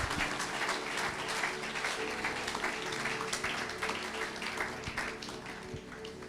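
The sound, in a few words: church congregation applauding to acclaim Jesus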